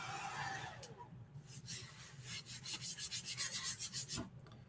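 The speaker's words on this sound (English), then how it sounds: "So I have 80 grit sandpaper on my sander." A power sander fitted with 80 grit sandpaper rasps across a wooden sign, a steady nearby grinding with rhythmic pulses of rubbing strokes and no talk.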